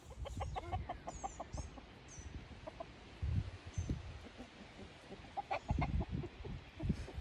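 Several chickens cluck and chatter nearby in an ongoing, irregular stream, with short bright bird calls scattered over a quiet outdoor background.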